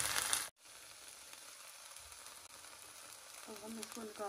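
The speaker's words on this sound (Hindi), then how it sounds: "इस तरह आप इसको देसी घी में थोड़ा सा फ्राई कर लेंगे 1-2 मिनट के लिए" Garlic and ginger fry in desi ghee in a pan, giving a steady soft sizzle with faint crackle after a brief louder burst at the start, with a few light clinks near the end.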